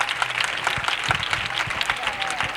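Applause from a crowd at an open-air Christian healing festival, a steady patter of clapping with voices mixed in underneath.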